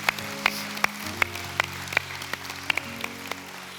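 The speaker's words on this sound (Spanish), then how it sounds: "Vamos a dar un aplauso." A church congregation claps at a Mother's Day service, a sparse, fairly faint round of applause with distinct hand claps spaced roughly every half second over a low steady hum.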